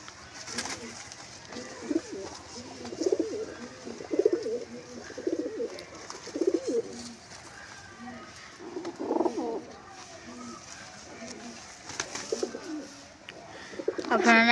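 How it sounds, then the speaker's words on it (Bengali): Andra pigeons coo in repeated soft, throaty bursts every second or two, close by and moderately loud. A faint background hiss and scattered light chirps sit underneath. "আপনারা এরকম পায়রা কোথাও পাবেন না"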